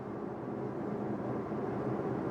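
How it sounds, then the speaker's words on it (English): Light road noise inside a 2016 Mazda 6 Touring with a 6-speed automatic, cruising in fifth gear at about 32 mph: a steady, low broadband rumble and hiss that holds even throughout, with no talk over it. "Other than some light road noise, not a lot going on."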